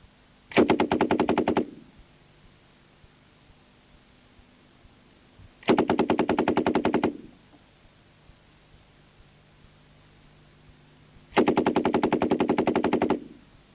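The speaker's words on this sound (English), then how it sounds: "Simply a question now of cocking the weapon and continuing to fire." A belt-fed Warsaw Pact machine gun fires three long automatic bursts of about a second each, rapid, loud and close, separated by pauses of several seconds.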